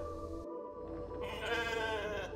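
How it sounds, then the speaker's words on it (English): A sheep in the sci-fi survival video game The Alters gives a drawn-out, wavering bleat, close and clear over a low electronic hum with no speech. "We made a sheep."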